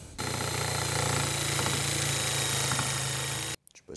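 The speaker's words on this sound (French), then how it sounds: "j'ai ressorti une scie sauteuse qui date de Mathusalem et je vais essayer de couper ça" A loud, steady buzzing drone from a very old jigsaw cutting wood runs for several seconds with a constant motor hum, then cuts off abruptly, leaving a few faint clicks.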